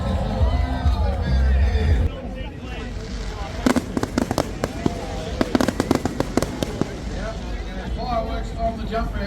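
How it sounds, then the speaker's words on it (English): Fireworks at the Moomba Festival in Melbourne at night, set off over a jump ramp, crack and pop in sharp bursts and rapid clusters at mid distance. Crowd chatter and voices carry beneath them. "Fireworks on the jump ramp now."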